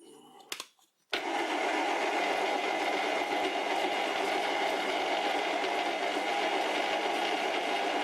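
A metal lathe cutter turns a tailstock locking lever, with a brief quiet start before a loud, steady, continuous machining whir that holds evenly to the end.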